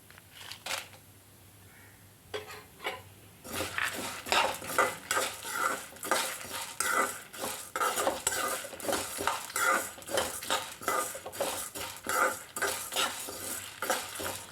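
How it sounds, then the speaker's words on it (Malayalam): Urad dal and dried red chillies dry-roast in a pan for chutney powder, giving a repeated rhythmic scrape and rattle of a spoon stirring the dry lentils against the metal under a faint sizzle. "ഉഴുന്ന് പതുക്കെ മൂത്ത് വരാനായിട്ട് തുടങ്ങിയിട്ടുണ്ട് ഇനി നമുക്ക് ഇതിലേക്ക് വറ്റൻമുളക് ചേർത്ത് കൊടുക്കാം"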